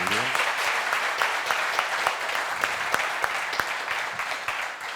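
Sustained audience clapping fills a conference hall at the end of a renewable hydrogen round-table day, dense and even with sharp individual claps standing out, and no speech over it.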